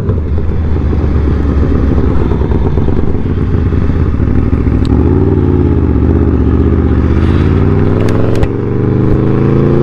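A loud superbike motorcycle engine roars continuously at close range, its steady drone rising and falling in pitch as it passes, with a few sharp clatters near the end.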